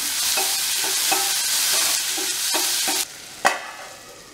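Tomatoes with salt sautéing in a hot pan, a loud close sizzle with rhythmic scraping stirs, briefly fading near the end before one last sharp scrape.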